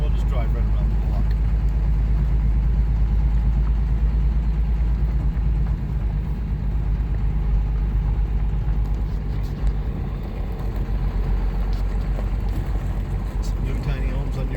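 An RV drives slowly around a block in Arizona, its engine and road noise forming a continuous deep, loud rumble throughout with little change in level.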